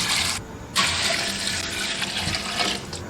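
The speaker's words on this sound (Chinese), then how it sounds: "加入4500毫升清水" Clear water pours steadily into a cooking pot to boil dried grass jelly, a continuous splashing rush with a short pause near the start before the stream resumes, close and alone.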